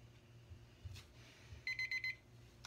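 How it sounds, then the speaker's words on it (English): A timer beeps in a quick run of five short electronic tones, then one more beep follows, clear against a quiet room. "don't wait till you hear the beep."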